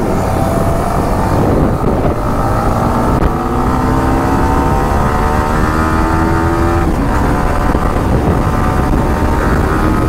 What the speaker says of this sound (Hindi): 900 का व्हीली देखो गाइस, ओ भाई पावर व्हीली बोलते हैं इसको